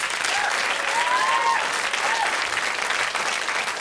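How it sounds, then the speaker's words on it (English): Studio audience applause on the 1994 quiz show Blockbusters, a sustained, even round of clapping from the crowd, with a faint tonal sweep briefly audible over it. "Give him another round of applause."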